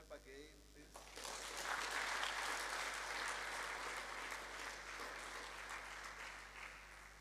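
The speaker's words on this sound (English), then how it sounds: "Can we clap again, please?" Conference audience bursting into applause at a national conference, a broad wave of many hands clapping that swells quickly after a quiet opening and then holds steady, with a low hum beneath.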